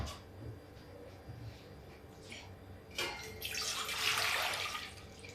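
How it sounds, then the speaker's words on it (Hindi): Water poured into a cooking pot on the stove while making jackfruit pickle, a splashing pour swelling near the end after some light clatter. "अब भगोने में हम डालेंगे थोड़ा पानी।"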